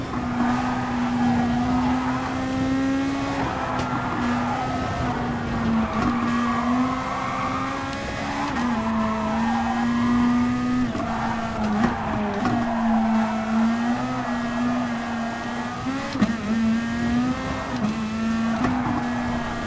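Race car engine in GT Sport, a loud, sustained, wavering whine that rises and dips through gear changes, with brief scrabbling tire noise as the car oversteers over a curb.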